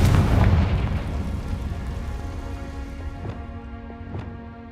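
A Confringo spell explosion in a video game bursts with a loud booming blast that decays into a crackling, rain-like rumble, followed by fainter pops.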